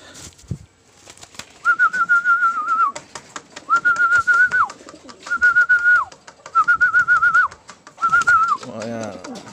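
A pigeon coos in a series of five sustained, wavering whistly calls at close range, with brief pauses between them and a faint wing flutter near the end.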